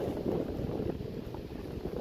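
Steady wind blowing across open water at a dam surrounded by big hills, a continuous low rumbling gust noise buffeting the microphone throughout.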